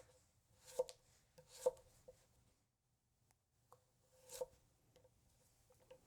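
Tojiro kiritsuke knife chopping a carrot on a board: three sharp, well-spaced cuts ring out close and clear, followed by a few lighter taps and scrapes in a quiet room.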